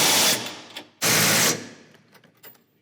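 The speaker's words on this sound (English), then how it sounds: "Now I'm just tightening everything down." Bolts on an Ironman 4x4 Raid rear bumper being tightened on a 2019+ Chevy Silverado 1500, loud bursts of a power impact wrench whirring close by, then fading mechanical clicks and rattles.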